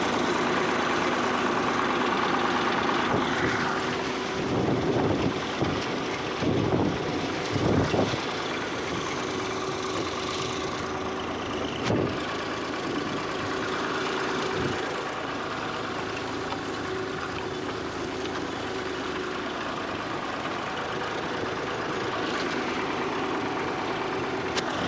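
A tractor engine runs steadily from the cab while riding along a dusty rural track, a continuous close low rumble with a few louder bumps and rattles and no talk.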